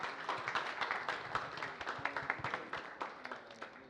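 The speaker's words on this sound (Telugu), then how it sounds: "గట్టిగా ఒక్కసారి శశి గారి కోసం క్లాప్స్ అండి." An audience claps for Shashi Odela at a film pre-release event: a dense, steady patter of many hands fills the hall for about four seconds at moderate-to-low level, with no speech over it.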